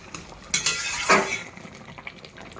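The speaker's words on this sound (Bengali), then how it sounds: "এবার আমি একবার ঢাকনা খুলে দেখবো কত দূর কী হয়েছে" A metal lid comes off a pot of simmering potatoes and aubergine, giving a couple of close clinks and a scrape, followed by a faint bubbling hiss of cooking.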